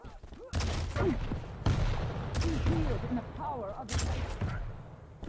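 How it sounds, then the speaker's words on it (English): Rockets and railgun fire in a Quake Pro League match, a dense run of blasts and explosions with bursts of heavier impacts, under a commentator's steady excited talk. "The rocket goes off. The railguns connect"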